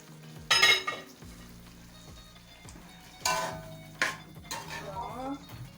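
Beef strips are cooking in a pan with tomato: a soft sizzle and frying hiss broken by clattering and scraping of a utensil against the pan, in a few loud bursts.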